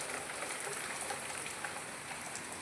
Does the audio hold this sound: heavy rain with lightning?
yes